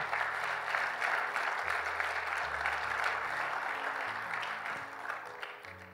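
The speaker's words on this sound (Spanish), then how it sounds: "¿Cuánto le dan un fuerte aplauso a ese Dios maravilloso?" A church congregation applauds during a sermon, a continuous, even wash of clapping at moderate distance with a low musical tone sustained underneath.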